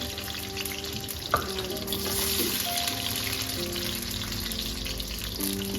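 Frozen potato chips fry in hot oil with a continuous close sizzle and crackle that holds steady throughout. There is no talk, and only a few faint clinks sound alongside.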